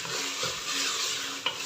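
Minced meat keema with peas is stirred in a frying pan, giving a steady sizzle with soft scraping strokes and a brief clink of the spoon against the pan.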